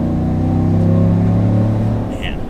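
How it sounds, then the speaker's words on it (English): Steady, heavy engine drone from a 2019 GMC Sierra AT4 crew cab with the 6.2 V8 under throttle, loud and close, easing off near the end as a voice murmurs faintly. "Just giving it some gas again."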